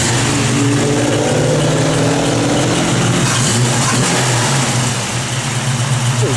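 A 1969 AMC AMX with a mild cam, running on pump gas, rumbles at a steady idle up close, its low, throbbing exhaust note continuous and loud throughout with slight fluctuations in revs.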